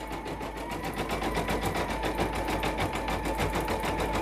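An embroidery machine stitches a double-fabric appliqué iron-on patch, its needle hammering in a fast, steady, even rhythm with a motor hum underneath, close and continuous with no talking.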